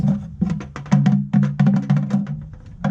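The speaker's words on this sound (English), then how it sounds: "when a fish takes off, it will start stripping off line." Fishing line pulls off a reel in a bucket in a rapid, uneven clicking rattle, close by and fairly loud, with no talking.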